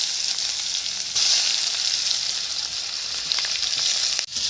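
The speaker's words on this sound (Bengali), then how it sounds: "দুটো শুকনো লঙ্কা দিয়ে দিলাম, তেজপাতা দিলাম, দিয়ে পেঁয়াজ তুলে দিচ্ছি" Onions frying in oil with dried chillies and bay leaf, a loud, steady, close sizzle throughout with a brief stir-like break near the end.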